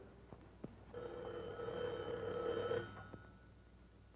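An old telephone rings in a 1950s setting, one continuous bell burst of about two seconds under faint room tone, with brief knocks before and after.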